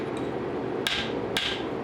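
A rounding hammer forging steel on an anvil while shaping an axe with a forge-welded bit: two sharp, ringing metallic strikes about half a second apart over a steady background hum.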